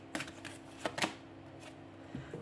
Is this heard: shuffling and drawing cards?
yes